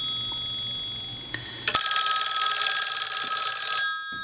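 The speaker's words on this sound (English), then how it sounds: "let's ring the telephone. Give it one more ring." A Western Electric 191G three-slot payphone bell rings close by, a bright metallic ring that starts with a couple of sharp strikes and sustains for about two seconds before stopping.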